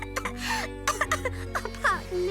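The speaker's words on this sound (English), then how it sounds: "I can't stop coughing." An animated cartoon character coughing and clearing its throat in a few short, harsh bursts close by, with voiced speech-like sounds mixed in and a low steady hum beneath.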